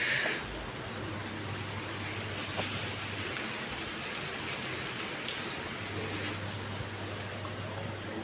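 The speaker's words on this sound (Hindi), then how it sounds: "सुबह सुबह बारिश" Steady rain falls continuously, a dense hiss of drops on surfaces, with a low hum rising and fading beneath it.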